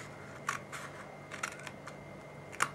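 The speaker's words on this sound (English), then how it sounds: "Now I'm just going to cut down these 2 on this side," Scissors cut down the sides of a paper treat box, giving a few short, crisp snips spaced apart, close by and fairly quiet, with no talking.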